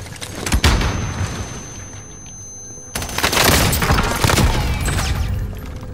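Gunfire hitting the player in the video game Warzone, a loud close burst of shots and impacts, a brief lull, then another heavy stretch of rapid fire and booms.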